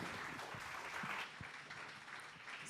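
Audience applause in a lounge venue after a talk, steady clapping from a modest crowd at a moderate distance, easing a little partway through.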